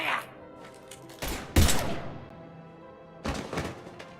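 Gunfire bursts from a firefight in the Mass Effect 3 video game, a few loud thumping volleys separated by quieter gaps, with a faint voice beneath.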